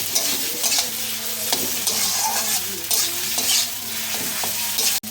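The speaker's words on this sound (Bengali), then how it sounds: "এই পাতা বাটাটা দিয়ে দেবো এর মধ্যে, সুন্দর করে নেড়ে নেব।" Ground leaf paste frying in a wok while being stirred, with a loud, close, steady sizzle and repeated scraping strokes of the spatula, and a sharp knock near the end.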